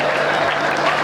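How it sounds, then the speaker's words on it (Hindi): An audience at a poetry recital claps steadily in a dense, even burst of applause throughout. "ताली आपके लिए आ रही है"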